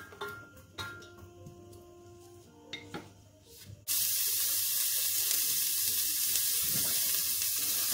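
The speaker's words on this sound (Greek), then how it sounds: "θα τσιγαρίσουμε το κρεμμύδι μας" Chopped dry onion hits a hot pan on a stove set to 7 and bursts into a loud, steady sizzle halfway through, after a few quiet clicks and clatters of kitchen utensils.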